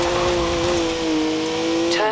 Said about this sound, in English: 3-litre straight six, 335 horsepower, 2 turbos, and as much sideways action as you like.